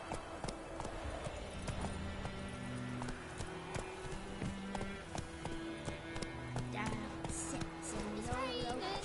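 Hooves of Roach, the horse in a PS4 video game, clip-clop in a steady galloping rhythm beneath game music, with someone talking over it.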